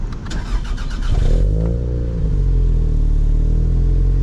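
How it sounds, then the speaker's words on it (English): A Toyota MR2 SW20 with a freshly installed radiator cranks over with a whirring starter, then catches and settles into a steady, loud idle. "We're going to start the engine, make sure it's out of gear first."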